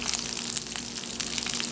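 Chickpea burger patties fry gently in a pan with a steady, close sizzle and bubbling crackle, continuous and even without talk.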